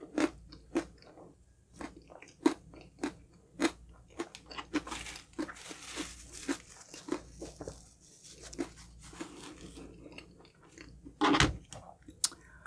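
Crunchy honey crunch cake from Red Ribbon being chewed close to the mic, a steady series of sharp, loud crunching bites with no talking.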